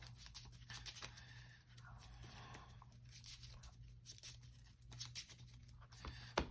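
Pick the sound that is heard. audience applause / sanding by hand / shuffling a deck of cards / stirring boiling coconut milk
shuffling a deck of cards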